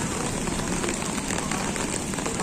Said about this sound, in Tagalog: Maulan guys.